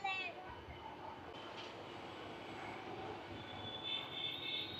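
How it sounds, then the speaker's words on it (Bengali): A broad gauge passenger local train pulls out of Amghata toward Krishnanagar, its steady rolling rumble filling the scene with a faint high whine near the end and a voice talking over it. "ফাইনালি বন্ধুরা দেখতে পাচ্ছেন আমাদের ট্রেন কৃষ্ণনগর সিটি জাংশনের উদ্দেশ্যে বেরিয়ে যাচ্ছে"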